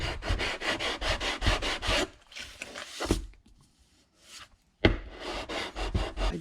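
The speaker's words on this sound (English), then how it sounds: "I'm going to sand it off. Go to 180 grit." Rhythmic back-and-forth rasping of 180 grit sandpaper sanding a crushed mother of pearl inlay in wood, loud close strokes in two bursts with a quiet pause between.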